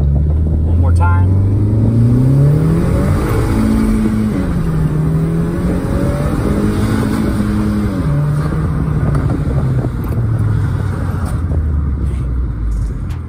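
Honda Fit with a swapped L15B7 engine running and driving, a loud steady engine drone rising and falling in pitch as it accelerates and shifts, with someone talking over it.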